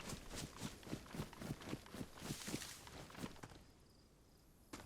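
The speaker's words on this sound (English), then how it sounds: "I was wondering what all that sound was. It was the goats." Rapid scuffling hoof-like steps of goats in the video game DayZ patter in a steady rhythm, fairly close, then fade out, leaving quiet.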